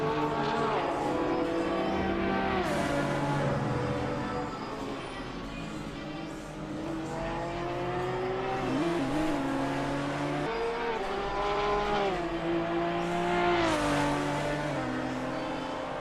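Race cars lapping in a Super GT racing video game, engines droning and revving continuously with rising and falling pitch as gears shift, loud and close throughout.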